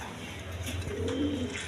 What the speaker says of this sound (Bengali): এইখানে এক পেয়ার খাকি কবুতর আছে, দেখেন কোয়ালিটি সম্পন্ন কবুতর